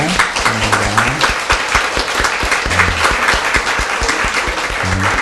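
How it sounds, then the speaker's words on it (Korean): A church congregation at a Sunday service applauds in welcome, a steady dense clapping that runs throughout, with a voice speaking briefly over it in short bursts. "우리 박수로 주님의 이름을 환영하겠습니다"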